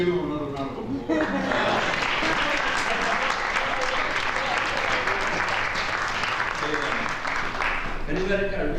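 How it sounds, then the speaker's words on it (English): Audience at a 1999 Black poets reading at NYU gives a poet another round of applause, a sustained full burst of clapping with cheers and voices mixed in throughout. "Let's give him another round of applause."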